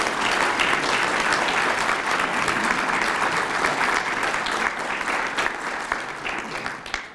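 A breakfast crowd gives steady, full applause in acknowledgement of champion Don Murray, dense clapping throughout with a slight fade near the end.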